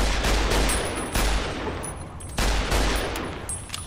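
Gunfire in Fallout New Vegas, loud repeated bursts of rapid shots in several volleys with brief pauses between them, close and dense.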